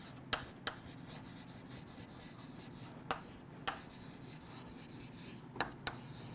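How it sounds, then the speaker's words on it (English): Marker or chalk on a board during a biology lesson, with soft scratchy strokes and a handful of sharper taps spaced unevenly over a quiet, steady background. "So I'm writing here"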